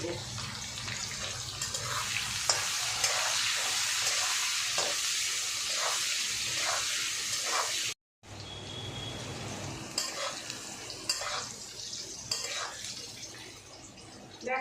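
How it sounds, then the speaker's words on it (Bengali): Potatoes and sweet stalks fry in a pan with a steady close sizzle, and a spatula scrapes and stirs them in repeated strokes; there is a short break partway through, and no one speaks. "আমার আলুটা ডাটাটা ভাজা ভাজা হয়ে গেছে"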